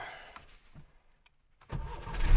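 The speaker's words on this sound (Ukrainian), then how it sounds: "Заводиться причудово." A Skoda Favorit car engine cranks briefly and catches, settling into a loud, close idle rumble after a short quiet gap.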